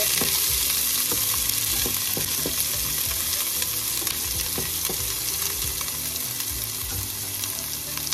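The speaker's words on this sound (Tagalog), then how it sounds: "Lagyan na natin ang sibuyas. Ayan. Halu-haluin lang ng kaunti." Onions sizzle steadily in a hot pan for chicken kaldereta as they are stirred, with a constant frying hiss and scattered scraping clicks throughout, no voices.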